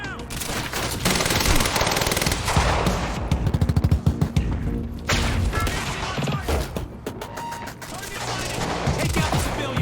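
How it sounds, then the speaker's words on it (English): Rapid automatic gunfire and bursts of shots crackle loudly in the video game Quantum Break, forming a dense, sustained barrage with faint voices shouting underneath. "Suppressing fire!"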